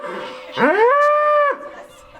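A Dexter–Jersey cross cow lets out one loud, close moo that rises, holds steady, then cuts off, with nothing else around it.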